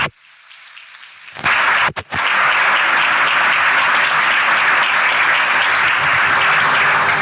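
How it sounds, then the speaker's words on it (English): Loud, sustained applause from a large audience begins after a quiet second and continues steadily to the end, a dense wash of clapping. "please, one more time, a round of applause for General Thompson and Elon Musk."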